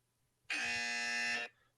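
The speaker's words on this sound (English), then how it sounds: "You got the dryer buzzer. It sounds like your clothes are ready." A loud, flat electronic dryer buzzer sounds once for about a second, starting and stopping abruptly in an otherwise quiet room.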